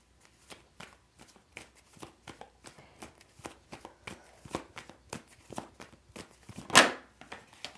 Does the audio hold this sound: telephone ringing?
no